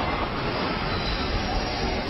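A train moving along a railway track, a steady loud broadband rumble and rattle that fills the whole moment without breaks, with no voices over it.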